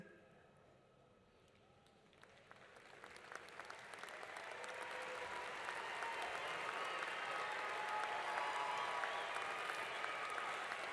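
Applause from a large crowd at a Spring 2016 WSU university commencement ceremony starts after a quiet moment and swells steadily into sustained, dense clapping that fills the hall.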